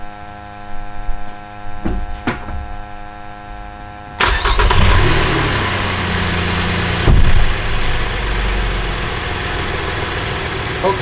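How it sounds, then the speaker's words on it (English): A car sits with an exhaust gas probe in its tailpipe. After a few quiet seconds with light clicks, the engine cranks and catches, then settles into a steady idle hum with one brief surge. "Okay, vehicle's running, it's at idle"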